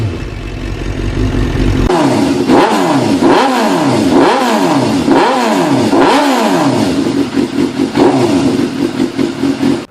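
A Suzuki GSX-R750 sport motorcycle engine revs loudly and close up, a series of repeated rising and falling throttle blips after an initial idle, ending in choppy pulsing revs.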